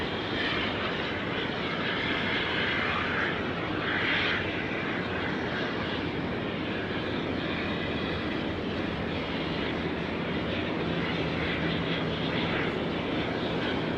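An MD-11 jet taking off at Sydney Airport on a foggy night: a steady, loud, broad engine roar that persists throughout without letting up, heard alone at a distance.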